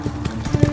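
Horse hooves from the video game Age of Empires 4, a fast run of clip-clop hoofbeats, close and fairly loud, with uneven thuds and no talk.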